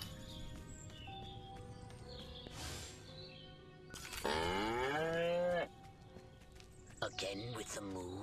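Cattle mooing in a video game: a long, loud harmonic moo in the middle and a shorter moo near the end, over steady game music and effects, with voices speaking in between.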